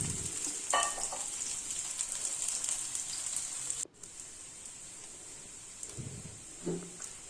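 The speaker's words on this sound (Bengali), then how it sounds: "কুচি করে রাখা পেঁয়াজটা একটু তেলে ভাজা ভাজা করে নেব" Chopped onion frying in about a tablespoon of oil, a steady soft sizzle throughout with occasional stirring scrapes, quiet and close.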